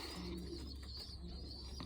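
Young pigeons being moved into a competition loft box give soft, low, rolling coos against a steady background hum, close by and continuous through the short stretch.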